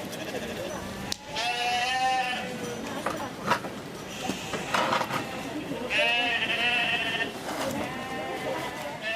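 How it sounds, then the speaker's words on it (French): Young ewe lambs that have escaped through a half-open gate bleat repeatedly and loudly, several overlapping calls, while a person talks over them. "Une barrière entr'ouverte, et voilà que nos agnelles en profitent pour s'offrir une petite escapade."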